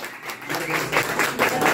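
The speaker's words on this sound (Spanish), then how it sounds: "Y el aplauso que se siente, claro que sí" Steady applause from a crowd at a birthday celebration with a youth mariachi band claps on evenly for a moment, building slightly as it continues.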